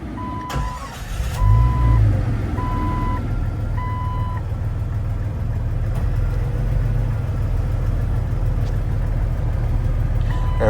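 A 2001 Jeep XJ cranks briefly and fires up, then settles into a steady, loud idle, while a chime beeps in a regular pattern during the start.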